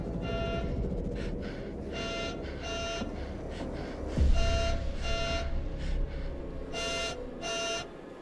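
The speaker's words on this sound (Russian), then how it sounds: "Там у тебя будильник." An alarm clock in the video game DeVil in ME, sounding as a series of repeated electronic beeps in short bursts and pairs, heard over a busy background of ambience and music.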